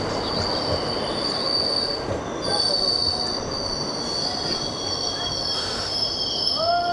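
A train pulls away from platform 3 of Bajarsh station, its wheels squealing in a steady, high, piercing whine over a continuous rolling rumble throughout.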